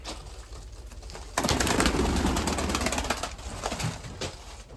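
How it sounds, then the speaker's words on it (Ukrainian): Mykolaiv pigeons coo and shuffle close by, with a sudden burst of rustling and wing flapping partway through, fairly loud and steady. "Це по Шевченку таких голубів мало"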